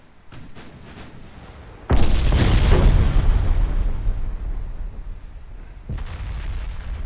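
A battleship is blown up in the naval game Ultimate Admiral Dreadnoughts: a few faint distant shots, then a sudden heavy explosion that rumbles on and fades, followed by another loud blast.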